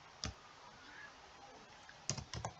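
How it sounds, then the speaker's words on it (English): Typing an address on a computer keyboard: a few soft, quiet key clicks, one alone early, then a short quick cluster near the end. "Now simply start typing your address."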